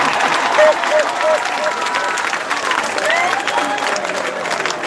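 Steady, dense applause from a graduation audience, loud and continuous throughout, with a murmur of voices mixed in and no pauses.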